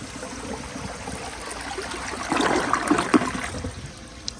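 A 2008 Mancesa Aquacer open-rim toilet flushes with a steady rush of water that swells partway through into a louder gurgling surge, heard close and alone.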